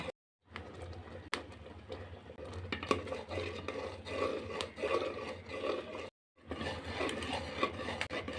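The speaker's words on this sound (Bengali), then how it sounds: "এখন আমি আবারও কিছুক্ষণ মিডিয়াম জালে রেখে নাড়াচাড়া করে ঘন করে নামিয়ে নেব" Milk kheer being stirred in a pot over medium heat, a steady scraping and rubbing of a spoon against the pot with soft bubbling underneath, continuous and close, broken by a brief pause near the end.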